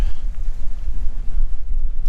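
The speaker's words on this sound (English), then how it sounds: "Okay, we're just sailing along here." Wind buffets a sailboat moving at about five knots under jib only among crab pots, a loud, close, gusting rumble without voices or engine.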